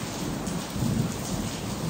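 Heavy rain pours down steadily during a storm at home, with a low, rolling thunder rumble swelling beneath the dense hiss of the downpour; no voices.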